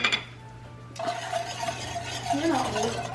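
Seasoning mixture of Lawry's seasoned salt and garlic powder being stirred in a bowl, with light scraping and a few soft clinks of a utensil against the side over a low steady hum.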